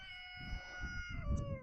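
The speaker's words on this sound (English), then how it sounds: "If you can hear him, there's our new rooster over there." A rooster at a quail and chicken farm crows from somewhere out back, one sustained, ringing call heard at moderate distance, with no one talking.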